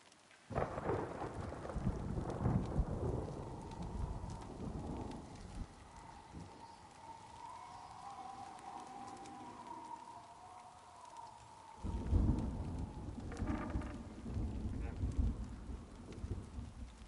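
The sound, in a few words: loud hail falling outside during a storm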